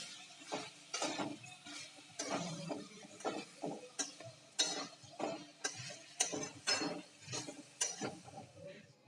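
A spoon stirs fried dried fish (sukat) into a chutney in a pan, making faint, rhythmic scraping and clinking strokes that repeat steadily with a soft sizzle beneath.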